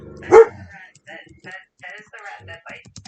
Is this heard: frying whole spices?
no